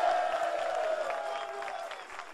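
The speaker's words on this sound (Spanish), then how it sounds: "Este aplauso que sea para sus familiares y amigos que están en casa." A studio audience claps and cheers steadily at a Spanish-language talk show, with sustained applause fading slightly toward the end.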